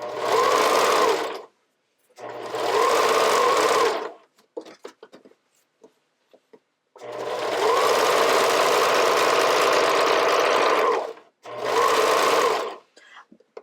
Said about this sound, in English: And still using a zigzag stitch, we're starting at this strap edge here.